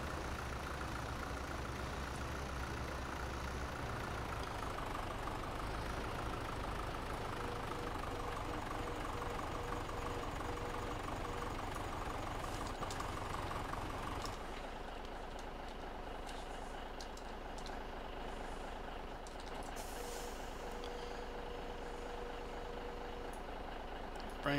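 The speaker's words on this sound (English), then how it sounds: "Now we're going to bring our tractor and put it on our trailer and take it down to the shop." A tractor engine drones steadily in a farming video game while being driven onto a trailer, loud and continuous, with the tone dropping and thinning partway through.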